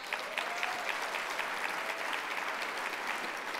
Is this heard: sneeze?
no